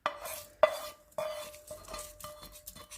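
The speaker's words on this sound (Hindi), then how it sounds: "अब हम तड़का दही में डाल देते हैं।" Hot tadka of fried red chilies is poured into yogurt for eggplant in yogurt, heard as a few sharp metallic clinks and scrapes of a pan and spoon, followed by softer stirring sounds, close up and without speech.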